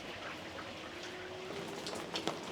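Hail and rain falling on a flower garden in front of a house in Canada during summer, a faint, steady patter and hiss throughout with a couple of louder drips near the end.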